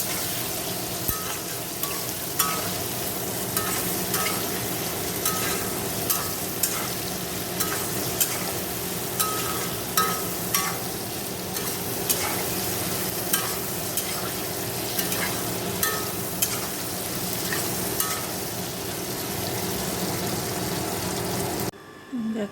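Ridge gourd, tomato and chilli, tempered with dried red chilli, sizzle steadily in a wok while a spatula scrapes and stirs in a regular rhythm. The frying is close and even throughout, and it cuts off abruptly near the end.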